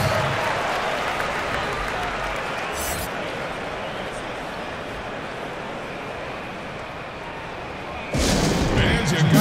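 Arena crowd noise during a timeout in an NBA 2K19 Dallas Mavericks vs Cleveland Cavaliers game, a continuous roar and cheering at even volume that swells into a louder burst near the end.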